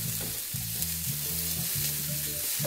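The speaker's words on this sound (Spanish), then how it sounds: "pueden ver que la zanahoria ya se está cocinando" Carrots with salt, pepper and seasonings frying in a pan for vegan burgers, a steady close sizzle with low rhythmic clunks of stirring throughout, no talking.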